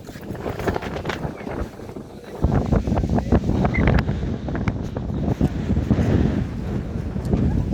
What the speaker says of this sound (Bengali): ঝড়ের কবলে পড়েছি আমরা।